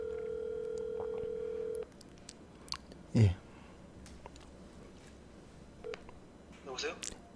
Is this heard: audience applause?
no